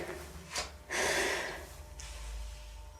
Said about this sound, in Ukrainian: І робимо такий вдих.